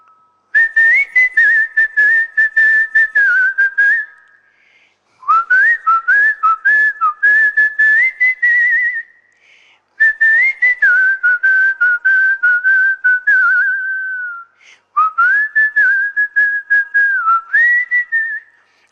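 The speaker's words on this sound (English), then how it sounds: "I'm whistling the words also." A person whistles a Hindi song melody in four sustained phrases separated by short pauses, loud and close, with the notes shifting in pitch and volume.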